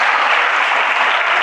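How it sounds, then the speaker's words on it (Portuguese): Congregation in a church service clapping together, a dense, steady wash of applause filling the room without pause. "Você pode aplaudir o Senhor e trazer um momento de alegria?"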